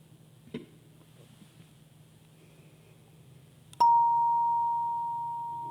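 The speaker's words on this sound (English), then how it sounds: "I'll ring our bell, and we'll begin worship together" A single bell strikes once to open a worship service, ringing with a clear, sustained tone that slowly fades, heard close over quiet room tone after a soft knock.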